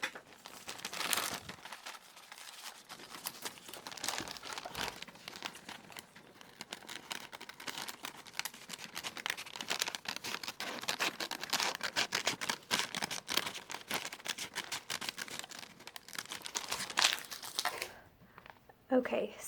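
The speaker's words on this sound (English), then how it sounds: "I'm going to be cutting along these dashed lines to get my final heel pattern" Scissors cut along dashed lines on a paper moccasin heel pattern, giving a steady run of crisp snips and paper crinkles with a few brief pauses, close and moderately loud throughout.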